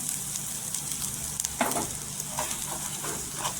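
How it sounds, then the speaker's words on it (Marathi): Dry Konkan-style masala sizzles steadily in a spoonful of oil for salted fish fry, a continuous close frying hiss with a few brief spatters and no talking. "इथे तेलावर आपण छान असा फ्राय करून घ्यायचं."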